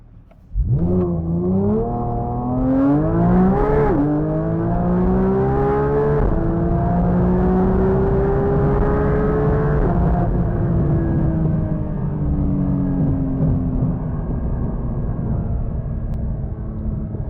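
Porsche 911 GT3 (992) in sport mode pulls hard through the gears toward 9,000 RPM, its engine note climbing steeply in loud sustained sweeps with brief dips at each upshift, then holding a steady high-revving drone.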